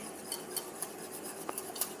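Butter sauce whisked in a bowl, a light, rhythmic clinking of the whisk against the bowl, fairly faint and steady with no talking.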